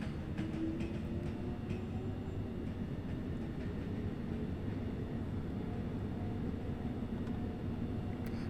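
A London commuter train rolls into a terminal platform, a steady, heavy low rumble of wheels and motors heard from on board, with a faint squeal early on and no voices.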